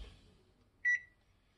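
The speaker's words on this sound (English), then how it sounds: "Set the timer." A kitchen timer gives a single short electronic beep while being set during donut baking, a clear tone standing alone against a quiet room.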